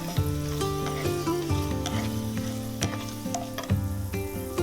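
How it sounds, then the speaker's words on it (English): Whole spices—a cinnamon stick, star anise and cloves—fry in hot oil for a vegetable dum biryani masala, a steady close sizzle and crackle running alone throughout with background tones. "Cinnamon stick, 1 inch 2 I am putting, star anise and 4 cloves for the masala."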